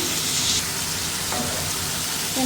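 Vegetables and ground spices frying in hot oil while being stirred, a steady close-up sizzle with scraping stir sounds, no talking.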